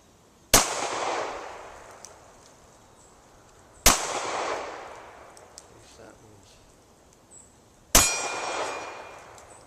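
A Taurus 942M stainless revolver fires three sharp shots at targets about 10 yards away, each a loud crack followed by a ringing decay, spaced a few seconds apart outdoors.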